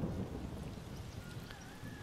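Spring rainstorm in the racing game Forza Horizon 4: steady rainfall hisses throughout while a low rumble of thunder rolls underneath, strongest at the start and easing slightly, with no speech.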